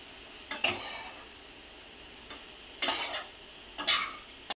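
Spoon stirring sabudana khichdi in a pan over medium heat, three or four distinct scraping clinks spaced a second or so apart against a faint sizzle, close and otherwise quiet.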